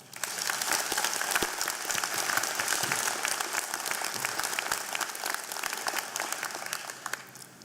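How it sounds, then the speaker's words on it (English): Applause from a convocation ceremony audience, a dense, sustained crowd clapping that holds steady for several seconds before tapering off slightly at the end. "please, a round of applause for our family, friends, and everyone who has helped us get here"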